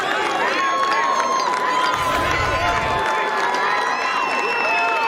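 A crowd at a college lacrosse game cheers loudly after a goal, with sustained shouting and roaring, and a commentator's voice running over the noise.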